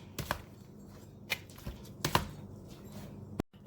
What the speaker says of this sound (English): We're going to toss this and stir it around till it's all coated with the egg mixture